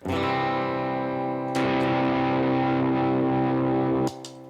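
An electric guitar played through a Shiny Shiny Black fuzz pedal rings out in thick, saturated sustained chords, loud and close, with a fresh strum partway through and the sound cutting off near the end.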